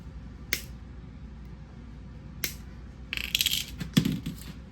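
Jewelry wire ends snipped with cutters while seashells are wrapped into pendants: two sharp, isolated clicks a couple of seconds apart, then a quick cluster of small metallic snaps and rattles, close and fairly quiet with no talking.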